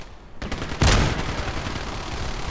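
An XM-25 grenade launcher fires in a video game with one sharp, loud blast followed by a rumbling, noisy tail, with no voice over it.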